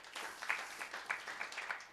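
An audience at a Gita Jayanti festival gathering at a gurukul in Sirohi gives a short burst of light, fairly distant applause with scattered individual claps.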